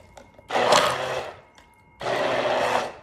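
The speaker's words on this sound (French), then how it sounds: "je vais la travailler tout simplement avec un batteur à bras" An electric hand mixer whisks a cup of water in two steady bursts, each about a second and a half long, separated by a short pause. The whirring is close and fairly loud, with no talking.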